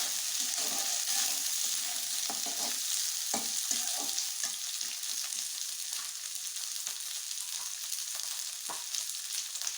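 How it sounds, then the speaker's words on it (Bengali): Green peas tossed into a pan with browned onions fry in hot oil, a continuous bright sizzle with scattered crackles and light stirring scrapes, close and steady. "মটরশুঁটিগুলো এর ভিতরে একটু ভেজে নিই।"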